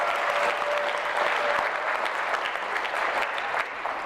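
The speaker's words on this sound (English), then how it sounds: "Let's give them a round of applause." Audience applause at an awards ceremony honoring graduating seniors, a dense, steady wash of many hands clapping that fills the room evenly, then eases slightly at the very end.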